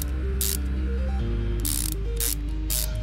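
Ratchet clicks from removing manifold screws in Car Mechanic Simulator 2015, loud repeated bursts of quick clicking in short runs over a droning game music bed, with no speech.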